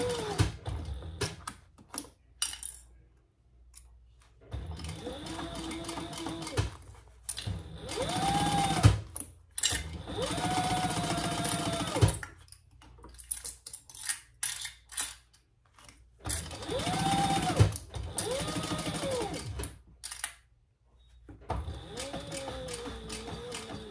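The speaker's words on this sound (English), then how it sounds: "now we're going to just baste the rest of it on" A sewing machine bastes a seam on a crossbody bag, running in several steady bursts of fast stitching separated by pauses, close and fairly loud with small clicks between runs.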